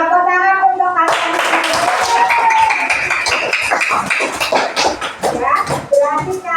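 A class of children applauds together, a dense burst of clapping close by, with a voice briefly speaking before and after it.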